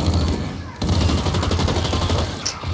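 Rifle fire in an online multiplayer shooter match, rapid loud bursts of shots crackling almost continuously with a brief break near the start, close and dense.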